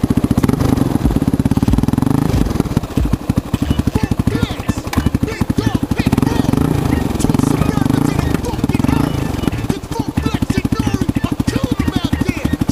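A cold dirt bike engine runs with a rough, rapid, pulsing idle close by, loud and continuous throughout, while a voice talks over it.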